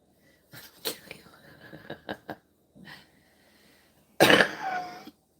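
Several short coughs and throat-clearing bursts in an uneven series, ending with one louder, harsher cough close up.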